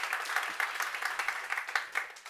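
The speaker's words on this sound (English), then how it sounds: "I think you can clap, yeah." Brief, fairly faint applause from an audience at a science summit pitch event, a short patter of scattered claps with a few distinct sharp hits.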